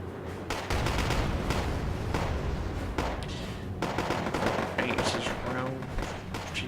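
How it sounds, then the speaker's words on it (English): In the Wargame: AirLand Battle video game, artillery and gunfire crack in dense, rapid bursts of sharp shots and booms, with a voice talking over the battle noise. "Artillery being fired, stopping quite a few of the units in the town."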